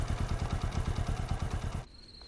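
A motorcycle engine idles close by with a fast, even chugging pulse for almost two seconds, then cuts off abruptly into near silence.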